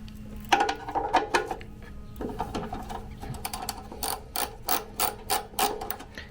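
Hand tools, apparently a ratchet, loosening the two carburetor bolts on an old Snapper mower with a Briggs & Stratton engine, in quick bursts of clicking pawl strokes with short pauses between them.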